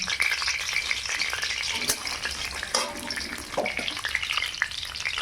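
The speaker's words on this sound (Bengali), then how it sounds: "পরিমাণ মতন তেল দিলাম গরম হয়ে গেছে এবার আমি ফোড়ন করে নেবো পুরোনো দেবো পাঁচ ফোড়ন" Panch phoron spices dropped into hot oil for khichuri, a dense close sizzle and crackle with some splashy, watery stirring and a sharper burst near the middle, no voices.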